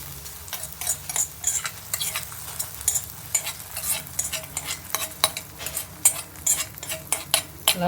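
Onions frying in a pan for a Konkani garam masala curry, a steady sizzle broken by frequent scraping stirs of a utensil against the pan, close and fairly loud with no talking.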